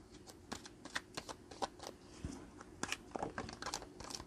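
A deck of tarot cards being cut and handled, heard as a close run of quick papery flicks, riffles and light slaps in uneven bursts, with no talk over it.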